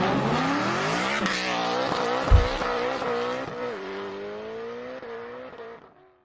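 A 2021 Toyota Corolla engine revs up with rising harmonic tones, steady and fairly loud up close, with a brief thump partway through, then eases off and fades near the end.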